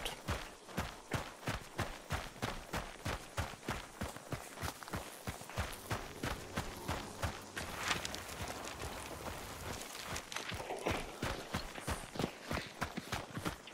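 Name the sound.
horse in the video game Hunt: Showdown 1896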